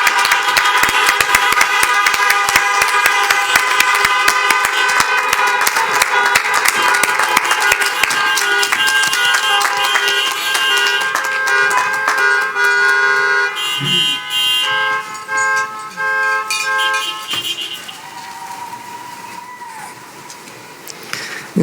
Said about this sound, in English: Please join your family and friends back in your vehicles, and a round of applause, please.